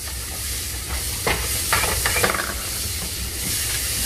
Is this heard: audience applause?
no